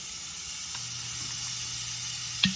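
Butter and olive oil sizzle steadily in a frying pan for pork chops, a loud continuous hiss with a brief clink near the end and no talk.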